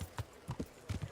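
Horse hooves clip-clop in an uneven rhythm of soft thuds in the Kingdom Come: Deliverance video game, fairly close and moderately loud, with no clear whinny.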